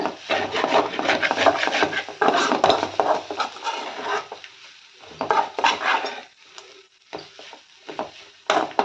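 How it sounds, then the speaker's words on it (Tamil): A spatula scrapes and stirs raw banana podimas in a kadai over a low flame, giving a steady close-up rasping, woody rub in uneven strokes that briefly pause and resume. "நீங்கள் சிம்மிலே வச்சு நல்லா கலந்து விட்டுக்கோங்க"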